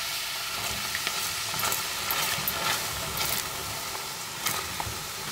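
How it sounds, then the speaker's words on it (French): Liquid cream poured into hot caramel sizzles and hisses steadily while being stirred, with scattered scraping clicks from the utensil over the bubbling. "Notre crème liquide, on va la mettre et on va remuer juste après."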